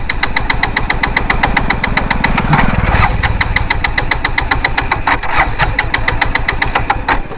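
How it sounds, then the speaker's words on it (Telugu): A petrol motorcycle engine running on diesel cranks, catches and chugs roughly with rapid knocking pulses, then falters and stalls, loud and close throughout. "వెహికల్ స్టార్ట్ అవుతుంది, ఆగిపోయింది"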